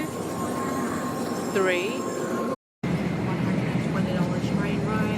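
A crowded train carriage in Japan rumbles steadily through the ride, a loud continuous drone with a brief cut partway through, and voices talk over it.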